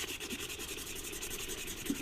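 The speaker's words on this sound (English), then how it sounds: "Just get a little bit of sandpaper on it. This is a 1000 grade." Fine 1000-grit sandpaper rubbing across the surface of a SMEG gas stove, a steady close scratchy rasp running without pause for the whole stretch.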